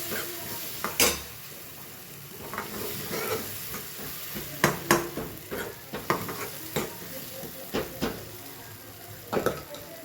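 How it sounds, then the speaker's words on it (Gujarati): Dal is stirred into sizzling masala in a home kitchen pan, soft frying hiss under intermittent scraping and clinks of a spoon against metal, irregular close stirring strokes without talk. "થોડી દાળ એડ કરીએ એટલે મસાલો સરસ દાળમાં બેસી જાય."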